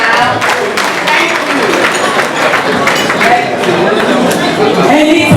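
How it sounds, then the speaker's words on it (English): An audience breaks into applause and clapping with crowd chatter mixed in, a loud, steady patter that lasts throughout. "Can we clap for her now?"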